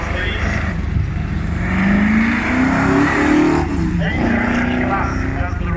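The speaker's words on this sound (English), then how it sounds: "Fantastic, phenomenal race cars these." British lightweight race car at the Kop Hill hill climb accelerating on tarmac, its engine note climbing steadily through the revs, close and loud, then dropping back and rising again, with a commentator talking over it.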